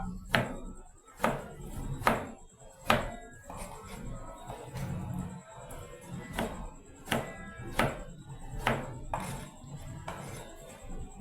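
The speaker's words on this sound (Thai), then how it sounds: "บวบเนี่ยเราหั่นเฉียงๆอย่างนี้นะครับ" A knife slicing luffa gourd diagonally on a cutting board, with sharp, evenly spaced thuds repeating at a steady pace, close and fairly quiet.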